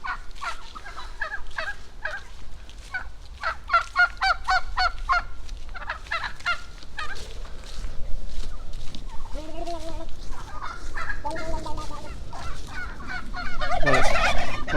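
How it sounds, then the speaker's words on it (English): Several turkeys gobble and call in rapid, close bursts along a rural Norfolk footpath in winter, the loud rattling calls repeating throughout, with fainter clucking and low wind noise between them. "Few turkeys here."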